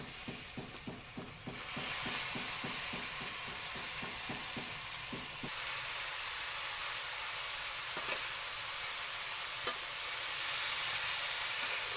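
Radish sizzles in a pan with coriander powder alongside prawns, with rapid rhythmic stirring scrapes at first, then a steady loud frying hiss close up with no speech.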